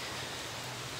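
Heavy rain falls at a hillside glamping campsite on a motorcycle camping trip, a dense, even hiss that continues without break and is heard alone.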